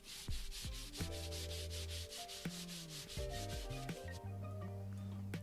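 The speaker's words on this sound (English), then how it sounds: "I then gave them a hand sanding down." Hand sanding of pallet wood storage crates: steady back-and-forth rubbing strokes, close and fairly loud, in an even rhythm with no talking.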